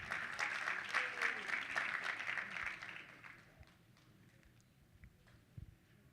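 Convention audience clapping for an honoree being brought up, a dense burst of applause for about three seconds that thins out into a few scattered claps and quieter room noise.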